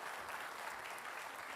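Audience at a Jakarta gubernatorial election debate applauding Anies Rashid Baswedan, a dense, even burst of clapping from a crowd, faint and brief.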